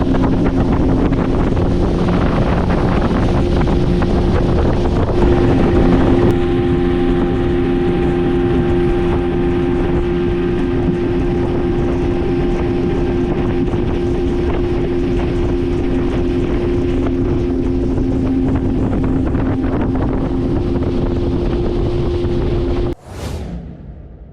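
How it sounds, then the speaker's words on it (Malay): A fast fishing boat's engine drones steadily at sea off Pulau Pangkor with a low hum and tonal whine, heavy wind buffeting the microphone and water rushing past, then it cuts off abruptly near the end. "Bot ni bot padu laju."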